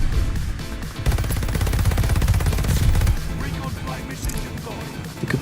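Cooper Carbine gunfire in the game Call of Duty: Vanguard, rapid automatic bursts crackling close and loud under a speaking voice.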